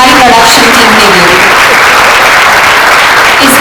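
A theatre audience claps loudly and continuously after a play, a dense, sustained wash of applause.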